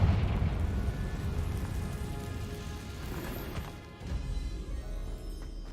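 The Confringo fire spell bursts in Hogwarts Legacy inside an abandoned, cave-in prone mine, a heavy crashing blast with rumbling debris that tapers off, then a second rumble swells.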